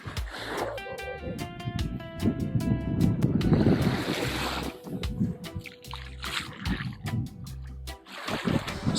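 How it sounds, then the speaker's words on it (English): Ocean waves wash onto a beach in Palawan, with surging surf swells and strong wind buffeting the microphone, interrupted by intermittent clicking and tonal bursts. "Let's see if you could hear the waves crashing."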